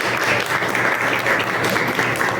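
An audience at a talk in Peru applauds, with steady, dense clapping that stays strong and even throughout and no one speaking over it.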